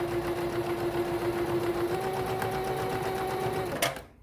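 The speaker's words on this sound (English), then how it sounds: "Just let your machine pull it through." Sewing machine running steadily while stitching a pillowcase, a continuous close motor hum and needle rhythm that stops abruptly near the end with a brief clatter.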